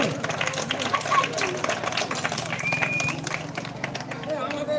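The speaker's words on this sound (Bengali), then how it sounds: "একটু হাতে তালিও সবাই মিলে" At a Zee Bangla Cinema event held in a village, a gathered audience keeps up a dense, continuous patter of hand clapping. Voices talk over the clapping the whole time, with crowd murmur in the background.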